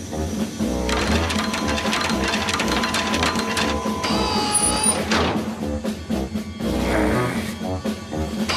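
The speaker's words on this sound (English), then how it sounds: "Crank up the Magna Fryer. Make it hotter." A whirring, clattering cartoon machine, the Magna Fryer, is cranked up, with a loud, dense mechanical racket of rapid rattles and tonal whines that runs throughout at close range.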